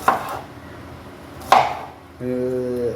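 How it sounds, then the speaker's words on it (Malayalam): A knife chops leafy greens on a board, giving two sharp cuts about a second and a half apart, followed by a short steady tone near the end. "ചപ്പുണ്ട് അതൊന്ന് അരിഞ്ഞ് വെക്കാം"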